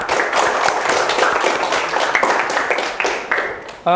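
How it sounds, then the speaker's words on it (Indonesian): Classroom clapping in a vocational school lesson, a brief burst of hand claps filling most of the moment, fairly close and steady, then fading out near the end. "tepuk tangan untuk kita semua"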